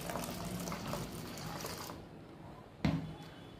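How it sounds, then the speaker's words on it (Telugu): Water pouring into an aluminium kadai during cleaning, a soft continuous splashing flow that fades out, then a brief louder knock or splash near the end, quiet and close. "ఇప్పుడు దీంట్లో వాటర్ని కూడా దీంట్లో పోసేద్దాము"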